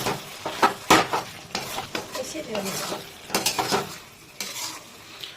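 Metal spoon clinks and scrapes against a pan in quick bursts, stirring fried eggplant into a fish curry with potatoes over a gentle sizzle, close and busy, then briefly quieter.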